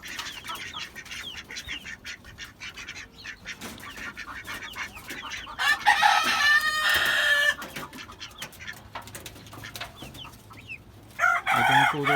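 Chickens cluck and squawk nearby in bursts, with a couple of louder flurries of calls over a quiet farmyard background.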